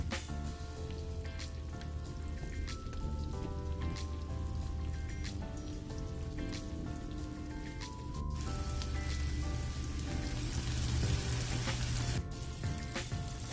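Garlic herb potatoes roast in butter in a hot pan, giving a steady, close sizzle and crackle like rain on a surface that grows a little louder partway through, heard alone without talk.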